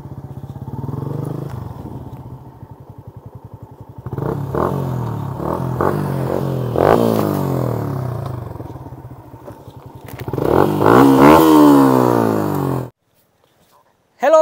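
A modified Exciter 150 motorcycle revs and rides nearby, its engine rising and falling in loud surges with a rattling idle between them, then cutting off abruptly near the end.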